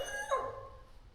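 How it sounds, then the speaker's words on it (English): A female dog lets out a weird, drawn-out yawning whine, rising then sliding down in pitch, close by and fairly soft, trailing off into quiet. "what is up with this dog and these weird noises that she makes. This weird yawn, whine thing"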